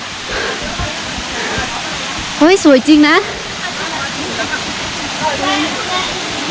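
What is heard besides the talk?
waterfall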